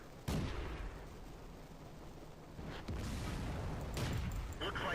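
Tank cannon fire in World of Tanks with an M2 medium tank: a sharp loud blast at the start, then further booming shots over a dense rumbling battle bed.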